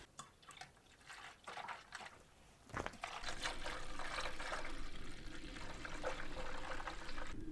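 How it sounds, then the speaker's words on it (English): Windshield washer fluid and dish soap poured into the tank of an old Kohler engine on a sawmill at an off-grid cabin, with faint drips and trickles, then a thump and a steady louder pouring stream, fairly close. "We're going to do a little bit of windshield washer fluid to help it from freezing, and then I always put a little bit of dish soap in there too"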